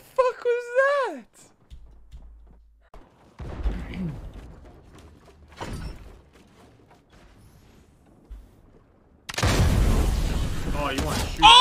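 Gunfire in a Fortnite match: a few separate booming shots and bursts crack out between stretches of quieter game sound. A loud, dense barrage erupts near the end, and speech is heard alongside.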